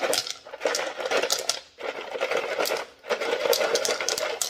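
Agate stones are dropped by hand into a wet 12 lb Lortone rock tumbler barrel, a close, busy run of hard clacks and clinks in three bursts separated by brief pauses.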